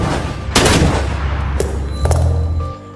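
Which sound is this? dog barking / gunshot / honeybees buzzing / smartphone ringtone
gunshot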